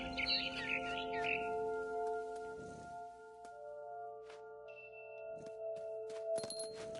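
A barn swallow chirps in the video game What Remains of Edith Finch. A quick cluster of faint, high chirps comes early, over sustained soft musical tones and ambient game sounds.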